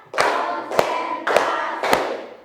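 Rhythmic classroom spirit clap before a lesson: four crisp, loud claps at an even pace of roughly one every 0.6 seconds, each followed by a short burst of room noise, with no speech between them.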